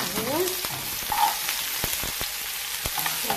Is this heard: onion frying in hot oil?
yes